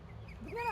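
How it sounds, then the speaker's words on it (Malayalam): A duck gives a brief quack near the end, at a pond with fish and swans where a family of ducks dives head-down for food; faint background hum comes before it. "നോക്കി എന്തോരം താറാവുകൾ."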